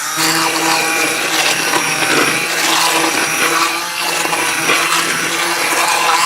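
An immersion blender pureeing simmered San Marzano tomato marinara sauce, a loud steady motor whir with gritty churning that holds without a break, close up and with no talk.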